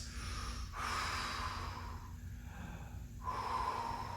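Quiet, steady breathing during a power yoga session held in triangle pose, with a few soft inhales and exhales heard close up over a faint background hiss.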